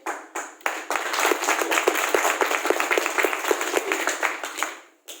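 An audience at a Modicare business presentation breaks into applause, with dense, fast, fairly close hand claps that start sparsely, swell into a sustained round of clapping and fade out near the end.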